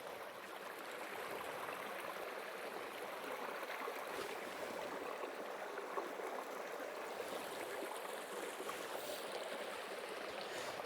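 A creek in Allegany State Park rushes over rocks in a steady, close, broadband wash that holds constant throughout, with no voices.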